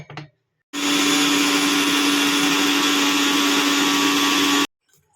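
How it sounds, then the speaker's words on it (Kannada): A mixer grinder grinding aloe vera whirs loudly at a steady high pitch for about four seconds, then cuts off abruptly. "ಈ ಥರ ಚೆನ್ನಾಗಿ ಮಿಕ್ಸಲ್ಲಿ ರುಬ್ಬಿದ್ರೆ"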